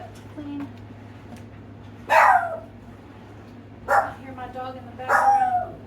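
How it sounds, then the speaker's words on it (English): A dog in the background barks at sounds outside, giving three separate short barks spaced a second or two apart. The barks stand out clearly over a steady low hum in a kitchen where produce is being prepared. "Dog in the background. He hears things outside, he barks"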